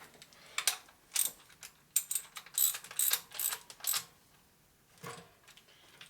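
A ratchet wrench turned during a 1949 to early 1977 Harley wide glide fork rebuild, giving rapid bursts of metallic ratcheting clicks in short repeated strokes, close and moderately loud with brief pauses.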